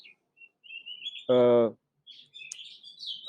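Thin, high oriental magpie-robin chirps and whistled song phrases, interrupted briefly by a voice speaking loudly up close.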